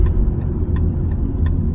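An eighth-generation Honda Civic with the R18 engine struggling in limp mode, a steady low engine rumble with faint periodic ticking clicks about every third of a second.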